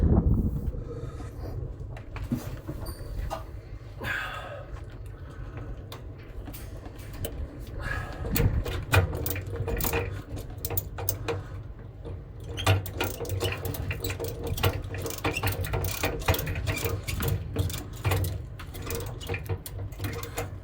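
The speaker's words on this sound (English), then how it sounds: "I've got the chain block rigged up on a piece of rebar, and then what I do is I obviously ratchet that up" A chain block ratchets up a big electrical cable rigged on a piece of rebar, guided into a lug, giving a steady run of rapid mechanical clicking and clattering over a low rumble, continuous and fairly close throughout.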